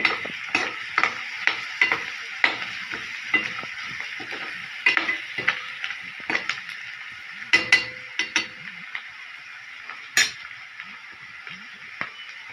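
Onion with green chili paste fries in a pan under repeated spatula stirs and light metallic clinks, a close, busy rhythm of scrapes over a constant sizzle, with no voices.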